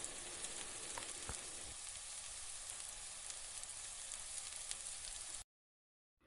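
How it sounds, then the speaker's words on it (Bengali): Potatoes frying in hot oil in a pan, a loud continuous close sizzle with a few crackles, running for over five seconds before cutting to silence. "এরপর ওই একই তেলে আমি আলুগুলোকেও ভেজে নেব।"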